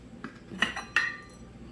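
The lid of a small electric rice cooker holding cooked sticky rice is opened, giving a few quiet metallic clinks and taps close by.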